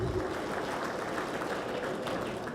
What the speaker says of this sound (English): Please, a round of applause to all our leaders and all of you.